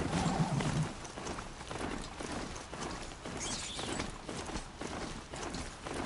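Horse hooves gallop at a steady pace in the Horizon Zero Dawn video game, a continuous rhythmic clip-clop running under game music and ambience throughout.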